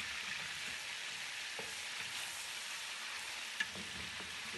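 Chicken searing in a pan for Egyptian-style kabsa gives a faint, even sizzle with a couple of small clicks, close but quiet and with no talk.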